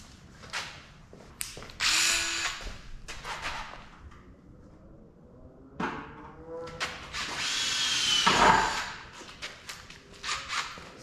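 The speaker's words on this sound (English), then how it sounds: "just drill a little hole here and start." Short bursts of a power drill whine in spurts as it bores a small hole in the bodywork of an AE86 Corolla, separated by pauses and clatter, with a longer, louder run of drilling near the end.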